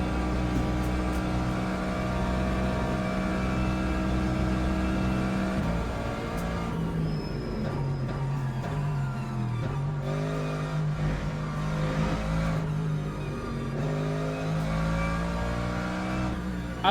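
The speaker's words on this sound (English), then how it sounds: "I love how beefy the engine sounds." Race car engine in the Le Mans Ultimate video game, a deep, beefy continuous drone rising and falling in pitch through gear changes, steady and close under the driving.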